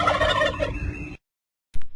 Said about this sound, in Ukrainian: Індик.